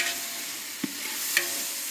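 A spoon works through chicken biryani in a pot, giving soft scraping stirs under a low sizzle, with two brief sharp clinks of metal against the vessel.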